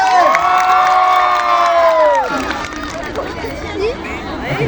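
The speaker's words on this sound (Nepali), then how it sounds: "एकचोटि भाइको लागि एकचोटि जोरदार ताली चाहियो" A loud crowd at the Pokhara festival in Nepal cheers with high, sustained shouts that fade into scattered clapping and lively chatter.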